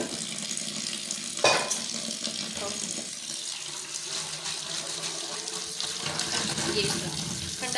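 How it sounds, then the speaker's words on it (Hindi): Cold tap water runs steadily over freshly boiled spaghetti for a spicy chicken spaghetti dish, a continuous splashing rush that stays close and fairly loud, with a brief sharper burst near the start. "हमें इसे ठंडे पानी से गुजारना है"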